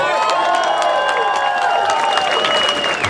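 Crowd applauding and cheering at the 2016 Baltic Pride march in Vilnius, Lithuania: a dense, steady wash of clapping and voices with whistle-like tones drifting through, holding loud for the whole stretch.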